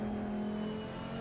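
GT3 race cars, a BMW against an Audi in Assetto Corsa at Kyalami, drone with a steady engine whine at sustained revs, heard briefly and fairly close.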